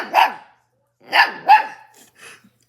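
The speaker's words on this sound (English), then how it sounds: "She's barking a lot, buddy." A dog, a female house pet indoors, barks in four sharp, loud, close bursts, two quick pairs separated by a short pause, with no other sound between them.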